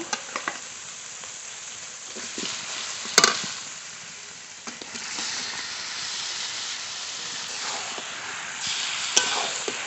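Masala-marinated chicken hisses and spits in a pan of cooked-down spice paste while it is stirred for a Bengali chicken kosha. Steady close sizzling is broken by scraping stir strokes and sharp bursts of steam, with no voices.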